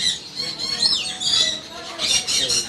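A yellow double-headed parrot of a local breed squawks repeatedly in an exotic bird shop, harsh shrill calls in quick bursts over a busy background of other birds.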